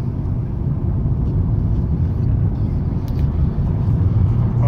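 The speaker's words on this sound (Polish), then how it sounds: "samolot tutaj teraz nad nami jest" A Boeing 747-400 jumbo jet passes overhead at LAX, producing a loud, deep, continuous rumble that stays steady throughout with no clear rise or fade.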